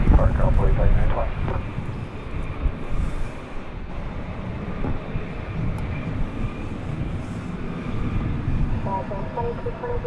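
An airliner on its takeoff roll from runway 18 Left at DFW Airport, a continuous loud jet engine roar with low rumble that holds steady across the clip, with people talking over it.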